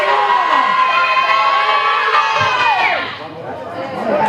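Spectators at a grand final rugby league game jeer and shout at a kicker 32 metres out, a loud, continuous wall of massed voices and shrill whistles that dips briefly before swelling again.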